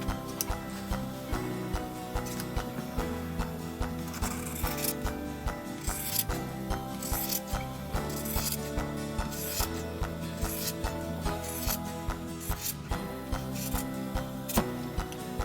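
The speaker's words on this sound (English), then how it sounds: "I'm just going to go ahead and cut through all 4 layers at once" Scissors cutting through four layers of fabric at once, a repeated crunching, rasping snip in a steady rhythm, close and fairly loud with no talking.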